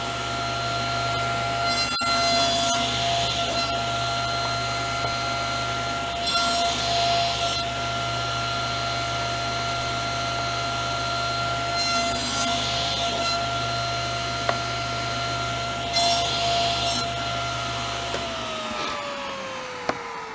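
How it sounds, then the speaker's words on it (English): Tenon shoulder cuts sawn into wood against a stop, several short bursts of cutting over a constant loud machine hum, with the motor winding down at the end and no talk. "And we can make the shoulder cuts right now."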